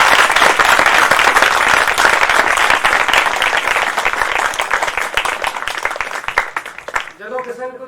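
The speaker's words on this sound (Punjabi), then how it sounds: "ਇਹਨਾਂ ਗਵਾਹੀਆਂ ਵਾਸਤੇ ਸਾਰੇ ਜਾਣੇ ਤਾੜੀ ਮਾਰਾਂਗੇ" A church congregation claps together during a service, loud dense applause that runs steadily and then tapers away as a voice takes over at the end.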